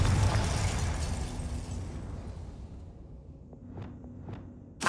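Confringo spell blast in Hogwarts Legacy, a loud rumbling explosion that slowly fades into a low roar, followed by a few brief whooshing sweeps and a sharp burst at the very end.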